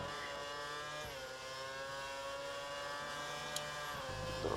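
An F1 car engine from the F1 2013 video game holds a high, steady whine with layered harmonics, shifting briefly in pitch at gear changes, clear and fairly quiet with no talking.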